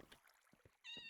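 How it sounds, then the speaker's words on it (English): A Minecraft cat gives a single short, quiet meow near the end, alone after a faint stretch of near silence. "Oh, a cat!"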